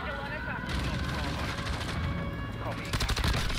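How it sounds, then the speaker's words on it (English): Rapid gunfire in the video game Modern Warfare 2, bursts of automatic shots crackling close and loud, growing denser toward the end, with a player's voice talking over it. "Of course I get shot at as I'm calling it in."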